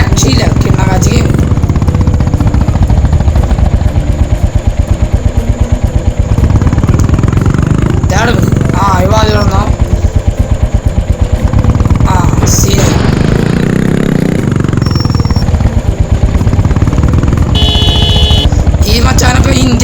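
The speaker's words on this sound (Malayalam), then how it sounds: "നമുക്ക് നേരെ റോയൽ എൻഫീൽഡ് എടുത്തിട്ട് നമുക്ക് നേരെ പോവാം. ബുള്ളറ്റൊക്കെ അത്യാവശ്യം സൗണ്ട് ഉണ്ടാവും." Royal Enfield Bullet motorcycle engine in an Indian mobile video game, a loud, steady thumping drone that holds for the whole stretch and is mixed with game clatter and tonal effects.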